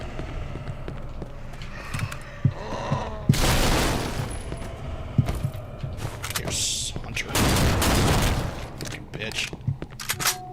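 Pistol shots fired at boomers in the zombie shooter Left 4 Dead 2 ring out in scattered single cracks between two loud, longer noisy bursts, with someone talking intermittently.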